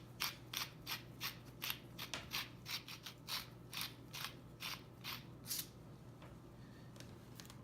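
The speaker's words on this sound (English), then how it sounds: "a few grinds of freshly ground black pepper" Black pepper cracks through a hand pepper grinder in a quiet kitchen, about a dozen quick rasping grinds in an uneven rhythm, close and fairly faint, with no talking.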